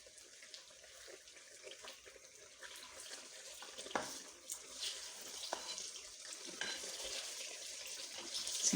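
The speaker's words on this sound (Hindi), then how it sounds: "इसकी थोड़ी सी भुनाई करेंगे।" Chicken karahi with softened tomatoes is fried in a pan, a faint sizzle with soft stirring and scraping sounds, quiet and close, building slightly toward the end without any speech.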